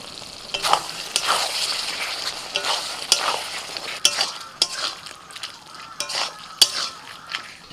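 Mutton cooking with yogurt and ground spices in a pot sizzles steadily while a utensil scrapes and stirs it in repeated sharp strokes, close and clear with no voices.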